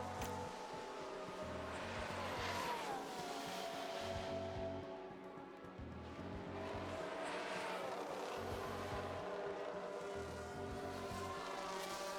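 A Formula-style race car engine at the Qatar Grand Prix in a racing video game drones and whines steadily throughout, its pitch rising and falling as cars pass, with no speech.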